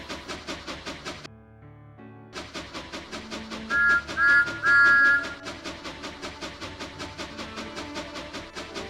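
Thomas the Tank Engine gives a cheerful whistle, a few short bright toots rising clearly over a steady background of rhythmic chuffing.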